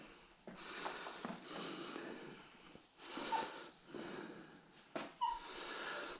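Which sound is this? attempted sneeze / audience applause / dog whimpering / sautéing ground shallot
dog whimpering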